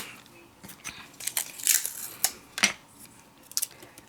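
Scissors snip through pink paper in short, close, crisp cuts, several quick snips in an uneven rhythm with paper rustling between them.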